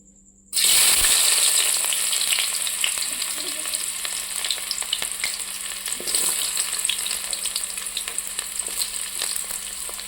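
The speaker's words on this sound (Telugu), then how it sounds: "నూనె కాగింది. ముందుగా తరిగి పెట్టుకున్న ఎర్రగడ్డ ముక్కలు వేస్తున్నా." Chopped red onions hit hot oil for Maggi masala noodles and burst into a loud, close, continuous sizzle that holds steady with crackles and occasional stirring.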